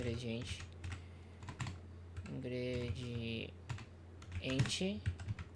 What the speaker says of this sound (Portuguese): eu tô digitando bem